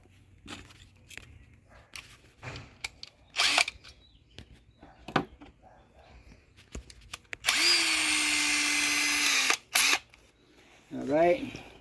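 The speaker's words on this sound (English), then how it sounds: "going to drill them." A power drill spins up in a long steady burst, drilling wood for a wooden lamp, after assorted knocks and handling sounds, then a few shorter whirs follow close by.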